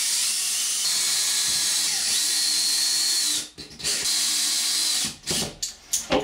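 A power drill drives screws into a plywood hinged panel for a bathtub build in a vintage Shasta trailer, giving a loud high whirring drone followed by short stop-start bursts as each screw seats.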